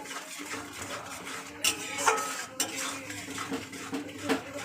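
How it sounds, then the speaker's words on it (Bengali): Spice masala for egg curry is stirred and fried in a pan, metal utensil clinking and scraping against the pan in several sharp strokes over a soft sizzle, fairly quiet and close. "এবার নাড়া দিয়ে মশলাটাকে ভালো করে কষিয়ে নিচ্ছি।"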